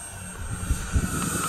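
A Durafly EFXtra High Performance Racer radio-controlled plane flies with a steady electric motor and propeller drone, fairly loud and close, rising and falling slightly as it passes, with gusty outdoor rumble beneath.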